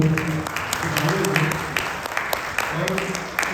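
An audience at an Urdu poetry recital in Chicago claps steadily, with dense applause running throughout. A voice speaks over the clapping.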